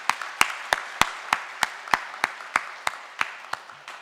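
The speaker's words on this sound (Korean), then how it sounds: "우리 따뜻한 박수로 환영하겠습니다." Members of a church congregation at a Sunday morning service clap to welcome new members. Sharp, evenly spaced claps stand out in a slow, steady beat over a soft patter of other hands.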